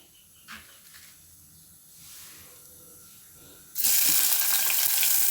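Onion, green chilli and curry leaves dropped into hot oil, breaking into a loud, steady sizzle after a quiet lead-in with faint background noise.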